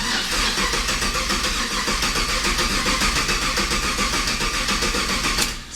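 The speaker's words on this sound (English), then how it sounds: "it's cranking over" An LS-swapped Chevy squarebody truck engine cranks over continuously on its starter, a steady, loud, rhythmic churning with no catch, cutting off abruptly near the end.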